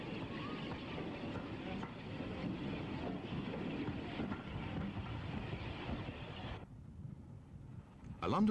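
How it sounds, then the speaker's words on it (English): A London-bound train rumbles steadily as it approaches the tunnel at the eastern end of Southampton Central station, a broad continuous roar that cuts off abruptly near the end, with a voice present. "A London-bound train approaches the tunnel at the eastern end of the station."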